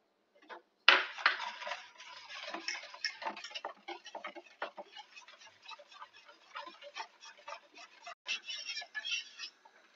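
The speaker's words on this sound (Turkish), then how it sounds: "Bütün malzememi güzelce karıştırdım. Böyle bir çırpıcı yardımıyla ki hiç topaklanmasın" A whisk beats sugar and cocoa mixture for supangle in a pot, producing rapid, irregular close clicking and tapping strokes, fairly quiet, with no talk.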